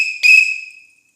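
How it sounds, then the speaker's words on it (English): A railroad conductor's whistle gives one sharp, shrill, piercing blast up close, loud at first and then tailing off into silence. "every good conductor has a whistle"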